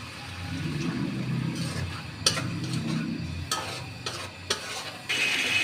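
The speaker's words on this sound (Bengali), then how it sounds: "তো মশলা কষানো হয়ে গেছে।" Roast masala paste with tomato sauce sizzles steadily in a pan while a spoon stirs and scrapes it, with several sharp clinks of utensil against metal; no one speaks.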